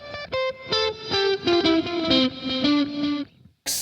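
Electric guitar notes that swell in rather than strike, a reversed delay smearing each phrase, ending in a short burst of noisy sound.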